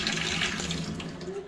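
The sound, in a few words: water running while washing face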